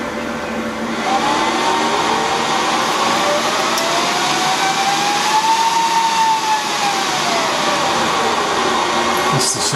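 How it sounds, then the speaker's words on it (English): A Dell PowerEdge 2850 server starts up, its fans spinning up into a loud, steady rushing whine with a tone that rises and falls, close and continuous throughout. "PowerEdge 2850 starting."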